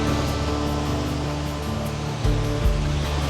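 Waves at a small hidden beach in Sydney make a steady, loud rush of surf and wash, with a couple of deeper thumps near the end.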